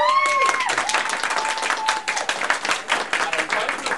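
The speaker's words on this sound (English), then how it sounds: "Round of applause for Renta." A convention audience at a tea dueling contest applauds a contestant, a loud close round of clapping with voices and whoops briefly rising above it near the start.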